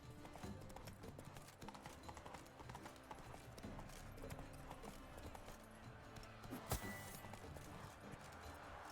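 A horse gallops in The Witcher 3: Blood and Wine, steady rapid clip-clop hoofbeats running throughout amid game music and effects, with a brief sharp impact near the end.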